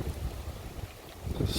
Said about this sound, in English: It is a windy 57 degrees this morning.